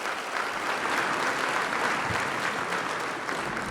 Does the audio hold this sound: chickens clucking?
no